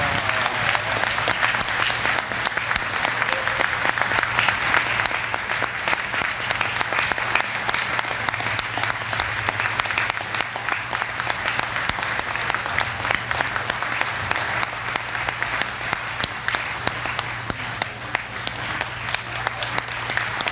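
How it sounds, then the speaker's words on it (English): A dinner crowd applauds at a service awards event, with sustained, dense clapping that runs strong and even for about twenty seconds, loud and close, over a steady low hum. "Ladies and gentlemen, another round of applause"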